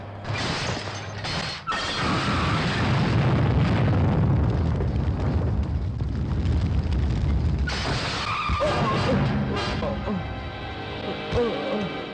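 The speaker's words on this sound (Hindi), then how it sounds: "देखो तो पटाखों की तरह गाड़ियों को कैसे उड़ा रही है।" Cars blown up in an action film sequence, a sustained roaring blast and rumble with screeching, skidding vehicles, loud and continuous, then a second burst of explosion noise with debris toward the end.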